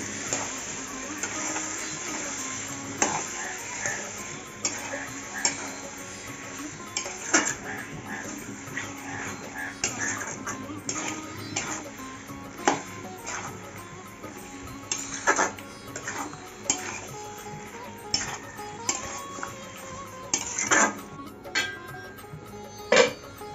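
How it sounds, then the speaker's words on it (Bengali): Mutton curry with tomato and yogurt is stir-fried in a pot, giving a low simmering hiss under irregular sharp spatula scrapes and knocks against the metal, close and steady. "3-4 চামচ টক দই দিয়ে দিচ্ছি, দিয়ে ভালো করে কষিয়ে নেব"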